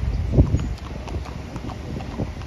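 A horse's hooves clip-clop on a street in Chapala, Mexico, a close, clear run of steady hoofbeats, louder at first and then continuing evenly.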